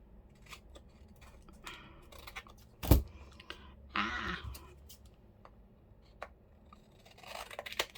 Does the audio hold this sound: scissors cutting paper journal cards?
yes